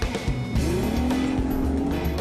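Race cars launch from a standing start with loud engine roar and a rising tire squeal that stretches across the middle of the clip, close and intense, with no talking.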